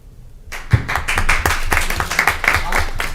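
An audience at a township board of education meeting breaks into applause after a moment of quiet, a dense, lively patter of many hands clapping at once that carries on steadily.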